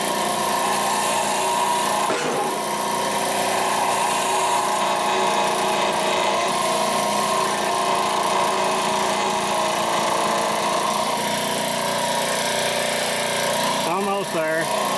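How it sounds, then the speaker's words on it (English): An old injection pump press running in a machine shop, its motor producing a loud, steady mechanical drone with whining tones that shift near the end, while someone talks over it. "Got the old injection pump press fired up."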